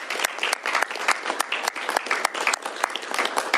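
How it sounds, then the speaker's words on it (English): An audience at a governor's bill signing applauds a state senator, a crisp, close burst of many hands clapping with sharp individual claps standing out, steady throughout. "Let's give her a round of applause for her hard work"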